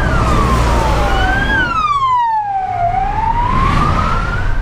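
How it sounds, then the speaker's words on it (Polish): A loud ambulance siren wails with rising and falling sweeps, the pitch dipping as it passes close by, over steady traffic rumble in a jam on the road. "Karetka jedzie."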